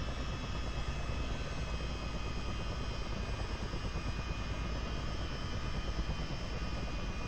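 A CH-47D Chinook twin-engine helicopter in a multiplayer flight game, its engines spooling up into flight mode with a loud, steady, dense turbine roar and rotor rumble that holds unbroken throughout.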